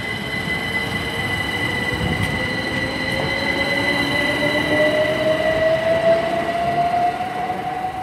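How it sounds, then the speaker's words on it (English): Two coupled Class 387 electric trains depart Tilehurst toward London Paddington with a steady rumble, high squealing wheel tones and a rising motor whine heard close by throughout. "departing out now is 387144 and 387155 on the 1121 service to London Paddington from Didcot Parkway"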